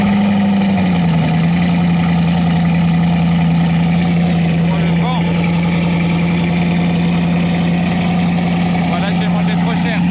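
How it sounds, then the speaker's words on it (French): A sports car engine catches at the start and settles into a loud, steady idle heard up close by the exhaust, a constant deep drone with a faint wavering roughness running throughout. "j'ai pas envie de louper le démarrage de la bolide"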